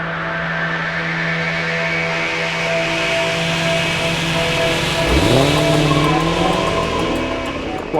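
A Dodge Challenger launches in second gear, its engine roaring loudly and steadily while the tires squeal, the pitch sweeping as revs climb under continuous close road and engine noise.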